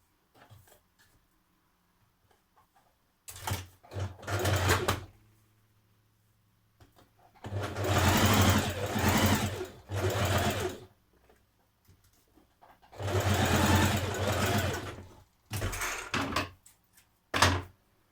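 Home sewing machine stitching a dart in fabric, running in several short bursts of steady whirring separated by pauses, fairly quiet and close, with no talking.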